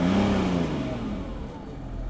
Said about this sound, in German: So, gib mir mal Gas hier.